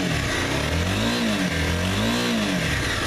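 A 2011 Honda CBR250R with a fuel-injected engine revs up close, two rising and falling sweeps of a mid-pitched engine note over a steady running drone.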